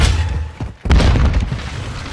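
A grenade goes off in Call of Duty MW2 ranked play: one heavy, close boom that cuts in sharply after a brief lull, then a dense rumbling wash of game noise lingers around it.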